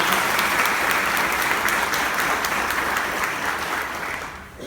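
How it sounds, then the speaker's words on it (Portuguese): Congregation at a Portuguese-language church service applauds after a Gospel reading, a dense, steady round of clapping that fills the room and slowly fades toward the end. "Dá uma salva de palmas bem forte a esta palavra"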